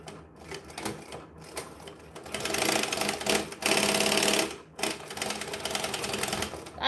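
A sewing machine runs along a bag seam in rapid stitching bursts broken by short pauses, close and loud, with no voices.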